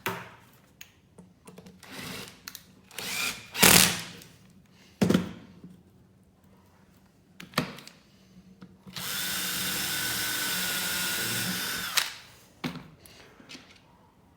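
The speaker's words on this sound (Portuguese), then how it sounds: "primeiro eu costumo fazer um furinho para colocar o parafuso aqui" A power drill bores a small pilot hole for a screw in wood while a bricklaying guide jig is built, with a sustained loud whine of about three seconds following several sharp knocks and handling thumps.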